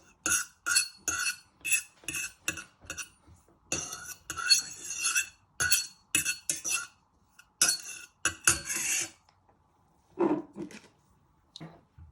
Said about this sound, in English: Just give that a little bit of a stir using a fork.